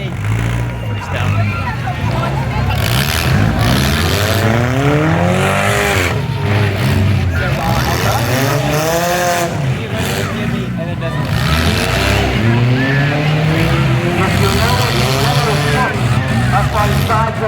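Cars in a youth demolition derby heat in Listie Grove, Pennsylvania rev and drive around, with engines rising and falling in pitch over a loud crowd murmur throughout.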